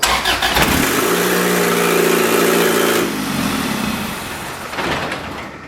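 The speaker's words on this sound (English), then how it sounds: "we'll just start it in first gear just to see the wheels spin" A turbo F23-swapped Honda EK hatchback starts up in first gear with its wheels spinning: a loud engine roar with a steady mechanical whine lasting about three seconds, then settling to a rougher idle with a brief surge near the end.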